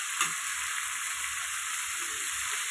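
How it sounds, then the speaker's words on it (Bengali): Chicken pieces frying in a pan for Bengali chicken and potato jhol, a quiet continuous sizzle with soft low clatter underneath, heard close and alone. "দেখো বন্ধুরা, চিকেনগুলো ভেজে নিব।"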